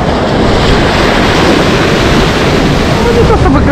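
Sea surf rolling onto the shore along an evening seafront promenade on the Black Sea at Lazarevskoye, Sochi, a steady loud wash of breaking waves with some wind buffeting, no talk over it.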